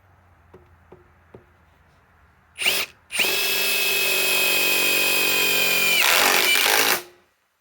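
Metabo HPT WH18DC triple hammer cordless impact driver, a few faint taps, a short burst, then a loud sustained whining hammering run of about four seconds that stops abruptly.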